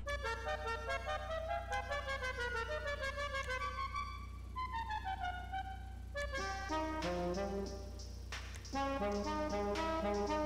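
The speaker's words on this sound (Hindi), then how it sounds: "ओए होए ये हॉर्न मस्त है" Car horn in Grand Theft Auto V played as a musical melody, a sequence of bright tuned notes over a steady low engine drone, with a few sharper tones near the end.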